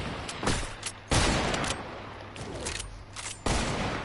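Rapid gunfire in a first-person shooter video game crackles in several bursts of shots, loud and close, with sharp onsets around the middle and near the end.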